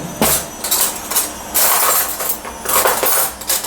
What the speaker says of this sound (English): So I'm going to get 2 teaspoons out.